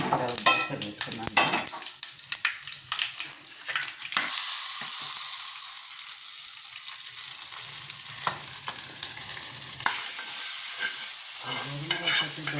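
Wheat flour dosa batter cooks on a hot pan with a steady, close hiss of frying, broken by brief scraping and stirring sounds.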